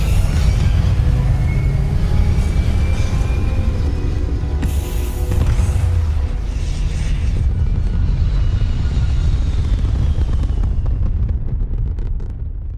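Sustained, heavy rocket-engine roar of a spaceship lifting off in the space game Starfield, loud and continuous throughout with a rumbling low end and a brief bright burst partway through.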